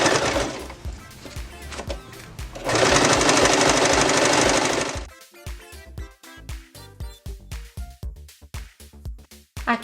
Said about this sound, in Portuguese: vem devagar com a sua máquina. A minha é doméstica e mesmo assim dá para fazer